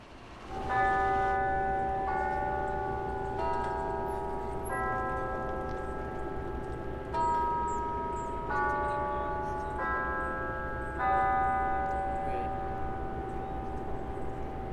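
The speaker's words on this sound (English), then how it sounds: "So it actually is a chime tower, not a bell tower." A chime tower on Catalina Island rings a melodic sequence of clear, sustained chime notes, struck one after another in an unhurried pattern and left to ring over each other, moderately loud outdoors with no talking.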